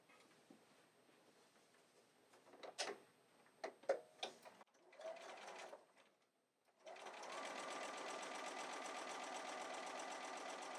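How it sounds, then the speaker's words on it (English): A sewing machine stitches the last stretch of a partial quilt seam, starting after a few scattered clicks and handling sounds, then running in a steady, close, fast whir until the end. "so I can go ahead and finish that seam off"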